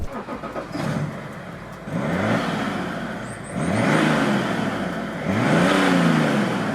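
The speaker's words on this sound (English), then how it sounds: "Sounds very calm, I suppose. It's a diesel, can't really expect much else." A BMW 635d twin-turbo diesel hums along on the road, its engine note swelling in repeated smooth rising pulls as it accelerates through gears, steady and fairly close with no talking over it.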